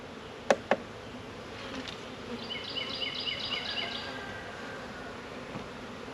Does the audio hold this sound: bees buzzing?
yes